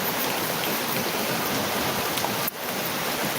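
Steady rain hisses continuously, a dense even wash of falling water with no voices.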